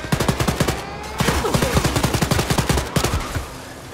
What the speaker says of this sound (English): Oh, that's a turret defense system.